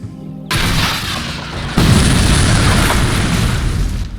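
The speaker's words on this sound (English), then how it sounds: "So let's shoot at this fucking Opel truck, and let's hope that all that heat from the explosion isn't gonna make our big-ass boots melt." An Opel truck blows up in the video game Faces of War: a sudden heavy boom after half a second, then a second louder blast that rolls into a sustained roaring rumble and crackle.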